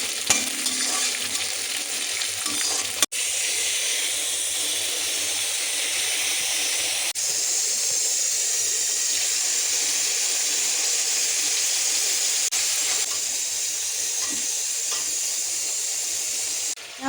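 Green chili and onion hit hot oil with browned garlic and neem leaves in a kadhai, giving a loud, steady sizzle with stirring throughout and no talking.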